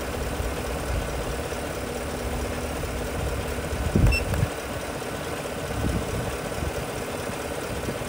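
A car engine idles steadily during an alternator charging test, giving a low, even rumble close by, with a brief knock or thump partway through.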